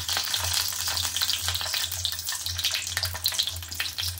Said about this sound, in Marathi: आता एक एक मिरची अशी टाकायची आहे पॅन मध्ये